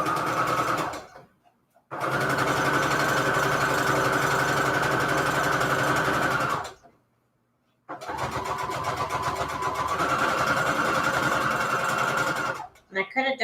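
A sewing machine stitching Christmas fabric for a junk journal cover runs in three bursts with a fast, rhythmic mechanical whir and two short pauses between, close and loud, no talking.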